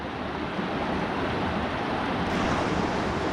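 Water rushes outdoors among mossy surroundings in a steady, dense roar, loud and unbroken, with no voices.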